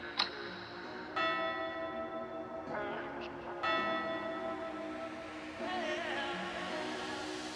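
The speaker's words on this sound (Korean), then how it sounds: "트레저 캐슬의 마지막 종이 울리고" The last bell ringing at Treasure Castle, a series of resonant bell strikes about every one to two seconds, each leaving a long shimmering ring that decays over soft background noise.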